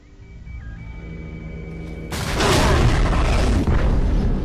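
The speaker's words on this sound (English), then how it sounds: "Yes, explosions." A tunnel detonation in the video game Bioshock 2 erupts as a sudden loud, broad roaring blast that swells over a low game ambience with a faint tone, then sustains as rumbling debris noise.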